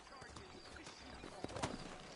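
Horse hooves clip-clop steadily in the Red Dead Redemption video game, a moderate patter of hoofbeats with voices talking over it.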